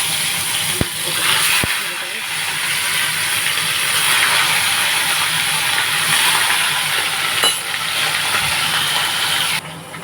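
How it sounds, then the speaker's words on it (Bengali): Catla fish fries in white oil with a loud, continuous hiss and sizzle close by, with a few sharp clicks and a voice talking over it. "সেহেতু আমি সাদা তেল দিয়েই মাছটাকে ভাজব"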